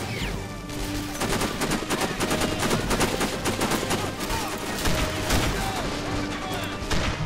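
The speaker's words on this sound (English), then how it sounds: "Gunshots now." Gunfire in the PC game Sniper Ghost Warrior rattles in dense, continuous volleys of shots over loud battle noise, with a voice shouting over the fighting throughout.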